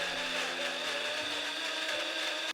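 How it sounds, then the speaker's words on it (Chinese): Blender whirring steadily as it purees cooked lotus seeds with water, a continuous motor drone with a steady high whine, close and alone with no voices. "加入1半的莲子，倒入50克刚才煮莲子的水，先低速搅拌，然后高速"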